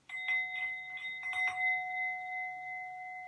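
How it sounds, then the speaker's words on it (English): A mindfulness bell rings, a few soft taps leading to one clear struck tone whose steady harmonic ring sustains and slowly fades, heard alone at moderate loudness. "In my country, we don't say strike or hit a bell. We say to invite it to sound"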